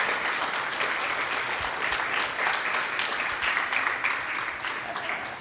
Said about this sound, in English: Please may I have an applause for wonderful class we had.